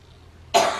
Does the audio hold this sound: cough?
yes